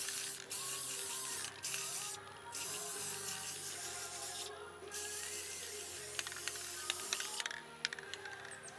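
An aerosol spray paint can coating vases for home decor, giving several long hissing bursts with brief pauses between, close and fairly quiet, followed by small clicks and rattles near the end.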